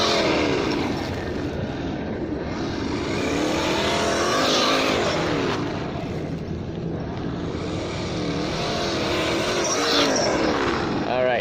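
Losi Baja Rey RC truck running a straight line over dirt and grass, its electric motor whining and rising and falling in pitch continuously, close and steady throughout.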